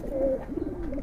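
A Giribaj homing pigeon coos softly while held in the hand, low murmuring calls close by with faint handling rustle and no talk.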